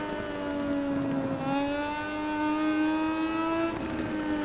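A Moto2 bike's engine in MotoGP 19 howls steadily at high revs as the rear tyre spins up, the pitch climbing slowly and dipping briefly once, loud and continuous with no talk.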